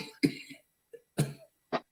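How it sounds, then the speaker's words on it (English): Several short coughs in quick bursts, close and fairly loud, separated by brief silences. "She coughing now."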